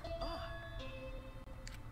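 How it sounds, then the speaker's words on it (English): In the video game Danganronpa V3, a bell rings with a few soft, clear tones, each held briefly over a low hum. The tones are faint and short, with a small bright accent near the end. "Was that the bell?"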